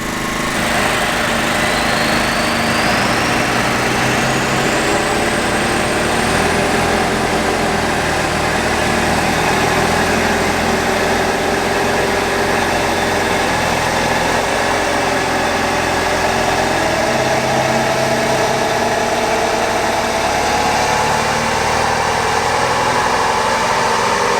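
A Ford OBS pickup's 7.3 engine runs hard on a dyno, a loud continuous drone with a slowly rising whine, no pauses and no talking.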